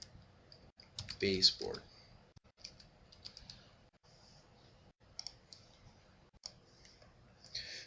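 Faint, close computer mouse clicks and light keyboard taps come in scattered single presses and short bursts, with a brief spoken word early on.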